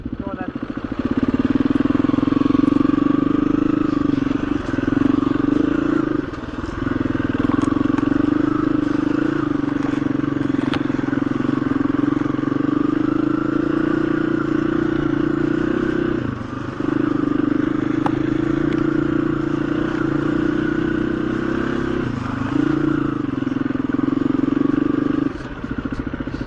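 KTM EXC-F 350 dirt bike on a trail ride across Salisbury Plain: a steady, droning single-cylinder engine note held for the whole stretch, with a few brief dips and shifts in pitch, and wind noise mixed in.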